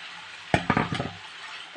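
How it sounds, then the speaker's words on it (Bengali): Spices sautéed with kasuri methi in an oiled pan: a short burst of scraping spoon strokes against the metal over a soft sizzle, close and clear, with no speech. "মশলাটা ভালো করে কষিয়ে নেব। মশলা থেকে তেল ছেড়ে দিয়েছে, এবার কসুরমুখীটা দিয়ে দেবো।"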